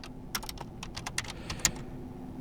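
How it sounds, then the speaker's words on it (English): Close fingers tap out a command on a computer keyboard in a quick, uneven run of crisp clicks, with one sharper keystroke near the end and no voice. "We have to type in the command that looks like this"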